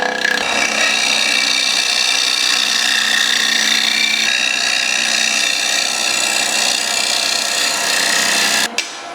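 Wood being turned on a lathe with a 3/8 bowl gouge to shape the edge and front face of a wooden platter: a steady, loud scraping hiss of cutting that runs nearly unbroken, stopping abruptly just before the end.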